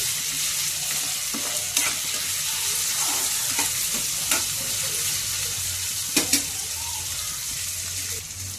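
Tomato pieces sizzling in hot oil in a pan, a steady close frying hiss with occasional clinks and scrapes of stirring scattered throughout.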